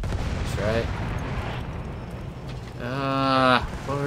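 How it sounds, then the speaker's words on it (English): Battlefield 1 online Conquest match at Amiens: booming explosions and gunfire rumble across the battlefield, with a loud blast swelling near the end amid constant combat noise and a player talking. "Where did that explosion come from?"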